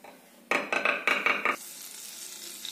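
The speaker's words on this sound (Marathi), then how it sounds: "एका कढईमध्ये मी 2 टेबलस्पून बटर घेतला आहे." Two tablespoons of butter in a kadai, heated to start a hotel-style chicken tikka masala, give a burst of close stirring and scraping with a bright sizzle for about a second, then fall to a soft, faint hiss.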